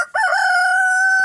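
A rooster crows loudly and close by among backyard chickens near a hoop greenhouse, one long sustained cock-a-doodle-doo call with no other sounds.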